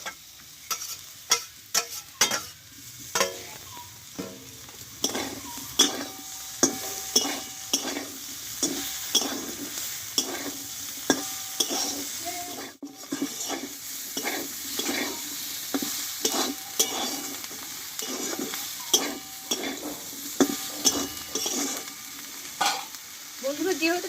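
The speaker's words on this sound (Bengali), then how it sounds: "এবার কষে রাখা আমি ঢেঁড়সগুলোকে দিয়ে দেবো" Okra already sautéed goes back into a hot pan and is stir-fried, a steady sizzle broken by frequent sharp scrapes and clacks of a spatula against the pan, close and loud, with no talking.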